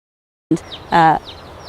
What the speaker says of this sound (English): We've got some chickens, you can hear them in the background.